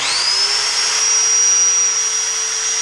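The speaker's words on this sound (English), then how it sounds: "It's called an electric drill." Electric drill spinning a Jaguar MKII engine valve clamped in a vise, a loud continuous high-pitched whine that holds steady throughout, close up.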